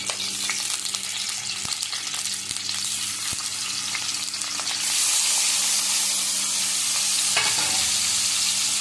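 Marinated paneer fries in a pan for a simple paneer gravy, giving a continuous loud sizzle with scattered stirring clicks and scrapes, the hiss growing brighter and fuller midway.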